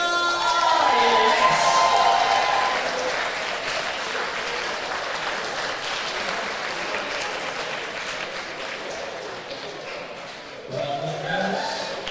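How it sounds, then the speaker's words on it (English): Audience at a British women's classic powerlifting competition applauding steadily after a 47 kg class winner is announced, a sustained wash of clapping with some voices mixed in, tapering slightly toward the end. "round of applause for that"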